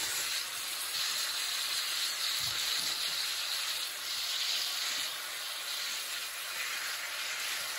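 Broccoli dropped into hot oil in a pot gives a steady, fairly quiet sizzle and hiss that lasts throughout, with no voices.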